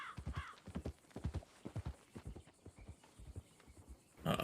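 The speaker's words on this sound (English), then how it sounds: "There's only one horse with 2 riders." Hooves of a single horse carrying two riders clip-clop in a steady, rhythmic series of fairly close knocks, with a brief louder burst of noise at the very end.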